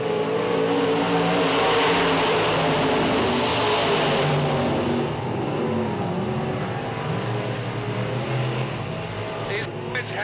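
IMCA modified race cars roar around a dirt track at Thomas County Speedway, engines wound up in a continuous loud drone with pitch shifts as cars pass, under an announcer's running commentary.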